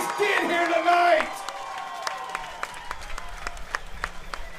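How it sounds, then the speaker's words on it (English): At a K-1 kickboxing event, the crowd applauds and cheers after a bout between Nate Gould and Camden Cook; a loud burst with voices and whoops fades into scattered claps and background crowd noise. "give Camden Cook and Nate the Savage a big round of applause for what they just did here tonight"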